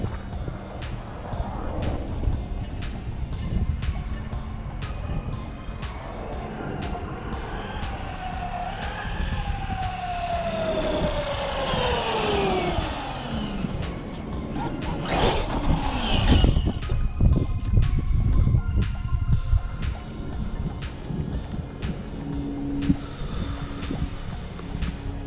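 A Traxxas Maxx V2 RC car making high-speed passes at about 50 mph, its electric motor whine rising and falling in pitch as it approaches and speeds away, loud and continuous outdoors with no voices.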